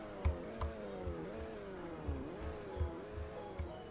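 A base 2-liter BMW 3 Series wagon engine revs up and down in a series of short blips, each rising and falling in pitch over a low idle, fairly quiet and heard with no talk.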